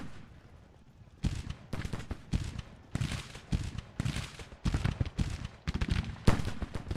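Scattered musket and carbine gunfire from a Civil War battle video game, including a Maynard carbine, with irregular loud volleys and single shots cracking out over a quieter background.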